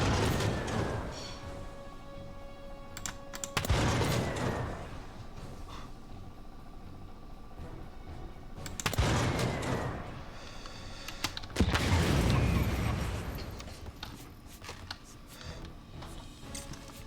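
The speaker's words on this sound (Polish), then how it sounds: "Ostatnie trzy strzały." Tank cannon fire in the Total Tank Simulator video game, set in the German campaign during Fall Gelb. Three separate heavy booming blasts ring out several seconds apart, with mechanical clanks and hum between them.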